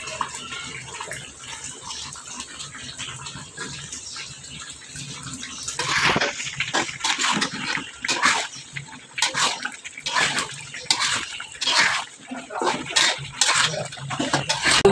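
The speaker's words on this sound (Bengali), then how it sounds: "এখন মুরগি ভাজাগুলো দিয়ে দিব।" Fried chicken pieces go into a roasting masala with a little water, giving intermittent splashy sizzles and wet clatter that grow louder and more frequent partway through, with no voices.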